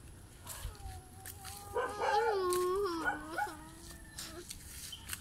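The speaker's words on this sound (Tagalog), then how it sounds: "Galit yung aso." A dog whines and yelps in a rising, wavering series of tonal cries, loudest in the middle, close by over a low hum.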